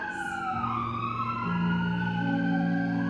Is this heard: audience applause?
no